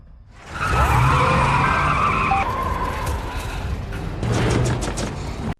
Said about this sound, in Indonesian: melihat mobil yang kabur. Lalu Elliot pun langsung mengejar mobil itu.